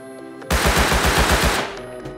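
A Tommy gun fires in the Rust video game: one loud, close burst of about ten rapid shots lasting roughly a second, with no speech.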